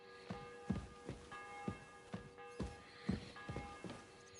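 A church bell rings in the medieval Kingdom Come Deliverance 2 video game, giving faint, distant regular strokes about every half second with a sustained ringing hum between them and no voices.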